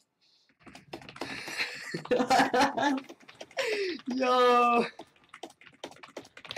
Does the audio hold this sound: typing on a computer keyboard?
yes